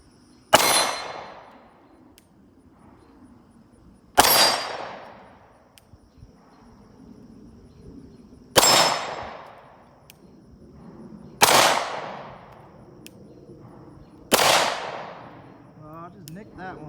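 Five sharp, loud Glock 43 pistol shots crack at an outdoor range aimed at steel targets, spaced a few seconds apart, each leaving a short ringing decay before quiet background returns.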